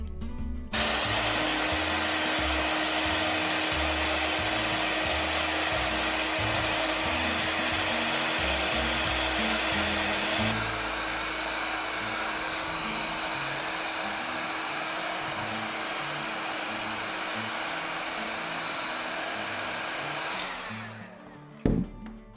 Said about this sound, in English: Now we're going to shrink it down with our heat gun.